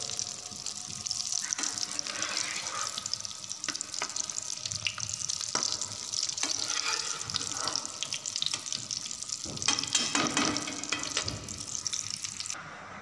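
Potato tikki frying in a pan, shallow-fried and turned by hand: a continuous close hiss of hot oil with scattered crackles and pops throughout, no talk.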